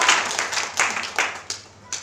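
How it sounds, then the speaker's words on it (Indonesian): A church congregation claps in bursts of applause at a lively service, several sharp rounds of hand claps rising and fading over about two seconds, fairly close and moderately loud. "Tepuk tangannya jangan ragu-ragu, boleh"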